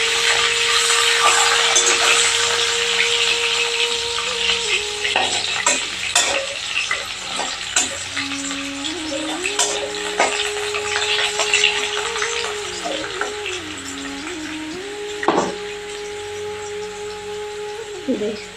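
Potatoes frying in a pan give off a steady, loud sizzle, with scrapes and knocks of stirring breaking in now and then.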